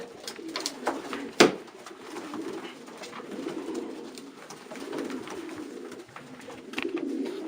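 Several racing pigeons coo softly and repeatedly nearby, overlapping murmurs with a sharp flutter or knock early on.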